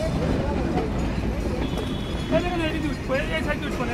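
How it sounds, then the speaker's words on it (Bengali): The Sundarban Express, made up of Chinese CRRC and Indonesian PT INKA coaches, pulls fast into a station platform. It makes a loud, steady rumble with thin metallic squealing tones drifting over it, and there is background chatter. "মারাত্মক গতি নিয়ে চাইনিজ CRRC এবং ইন্দোনেশিয়ান PT ইনকা কোচের সমন্বয়ে প্রবেশ করলো আমার পছন্দের ট্রেন"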